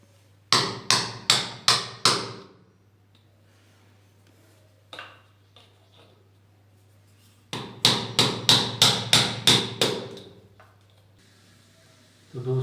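Steel nails hammered into a metal channel strip: two bursts of loud, evenly spaced ringing blows, about five then eight strikes, with a lone tap between and no talk.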